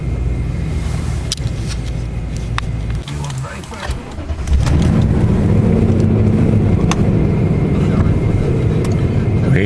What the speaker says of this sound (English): Starting the vehicle, foot on the brake, into reverse, foot off the brake, and there we go